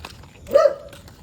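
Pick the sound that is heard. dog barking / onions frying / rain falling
dog barking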